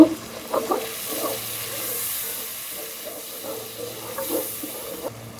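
Chicken tehari with masala is stirred in a pot, making a soft, even hiss of frying with light, irregular scraping strokes at moderate distance.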